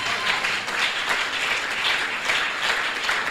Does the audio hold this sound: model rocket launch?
no